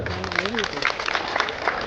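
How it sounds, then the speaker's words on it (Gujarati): An audience at a family get-together claps after young girls perform a welcome song, a brief burst of scattered applause with a voice speaking over it. "જોરદાર તાળીઓના ગડગડાટ વધાવો"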